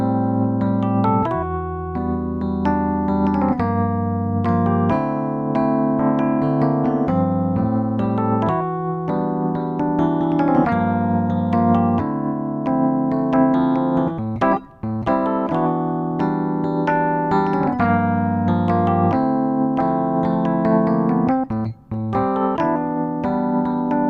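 A keyboard plays the main piano riff of a song, steady and prominent throughout with sustained chords and a repeating melodic figure, loud and alone with no voices.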